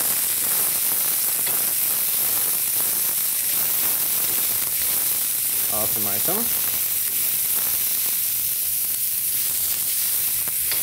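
Leeks fry in a very hot wok, a loud, constant hiss and crackle of sizzling oil that fills the whole stretch, with a brief spoken phrase partway through.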